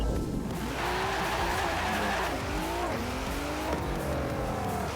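A car in the racing video game Forza Horizon 4 brakes into a corner with ABS assist on, engine revs dropping through downshifts and tires squealing, loud and continuous with no voices.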